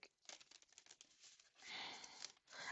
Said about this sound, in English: Still trying to learn how to grip these cards good to where I can shuffle them